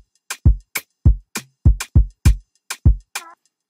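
Short sax-like percussive stabs in an Ableton afrobeat production, about eight clipped hits in an uneven syncopated pattern, each with a punchy low body and bright top, loud and alone.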